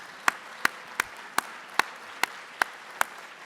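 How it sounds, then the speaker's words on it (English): About eight sharp, evenly spaced single claps at a conference's closing remarks, faint and sparse like one or two people clapping slowly in a quiet room. "we do one collective round of applause for everybody who was here"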